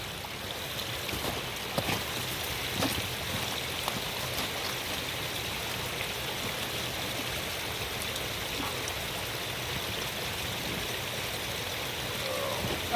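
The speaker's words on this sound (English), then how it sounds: "I've got the water flowing a little bit." Water rushes steadily down a small steep creek in winter, a continuous close burbling wash with faint splashes and occasional light knocks throughout.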